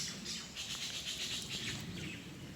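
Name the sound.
birds calling at Anini Beach, Kauai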